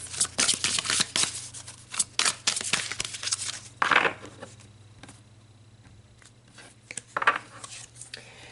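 Tarot cards shuffled and drawn from a deck, a run of quick papery riffles and snaps, loud up close, then a few softer slaps and one more brief shuffle near the end.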